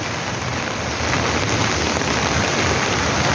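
Steady, dense rainfall with a constant hiss of drops hitting surfaces, filling the whole clip with no voices.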